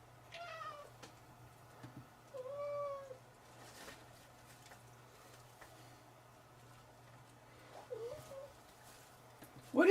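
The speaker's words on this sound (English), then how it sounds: "Are you a meowing mewer? Are you a sewer mewer?" A cat meows several times, with distinct separate calls spread across a quiet room over a steady low electrical hum, and a louder sound bursting in at the end.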